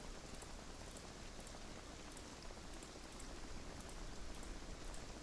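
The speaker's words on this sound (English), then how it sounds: "we're gonna go home and we're gonna wait out this rainy spell." Steady rain falls in the video game Project Zomboid: a dense, even hiss of drops hitting surfaces, with light patter throughout and no voices.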